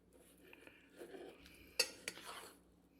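Pieces of fish are mixed with cornstarch in a bowl, producing faint, soft scraping and shuffling with two sharp utensil clinks partway through.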